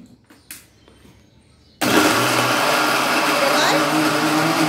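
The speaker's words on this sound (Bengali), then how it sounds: "সব উপকরণগুলো মিক্সারে বেটে নেওয়া হলো" A kitchen mixer grinder starts abruptly after a quiet stretch with small knocks, then whirs loudly and steadily while grinding shrimp, flat beans, garlic, green chili and black cumin.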